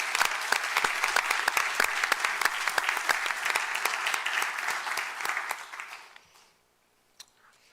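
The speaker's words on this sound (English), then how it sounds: "let's give him a round of applause for his service." A round of applause at a community forum for police chief finalists, dense and lively clapping from the audience that fades out over the last couple of seconds into near silence with one faint tap.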